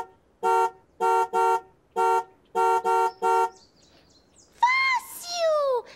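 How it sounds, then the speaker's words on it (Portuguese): A car horn honks in a rhythmic pattern of short and doubled blasts, followed by a voice saying something in a playful, animated tone. "Garibaldo, esse som é da buzina do carro."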